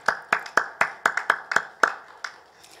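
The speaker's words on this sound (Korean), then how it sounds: "아버지 하나님께 감사와 영광의 박수를" Sparse, uneven claps ring out in a Korean church during a Wednesday worship service, about a dozen distinct sharp hand claps that fade toward the end.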